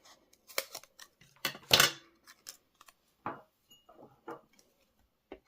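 Scissors snip paper card stock to cut out a card element, giving a series of close, crisp, irregular cuts with short quiet gaps between them in an otherwise silent room.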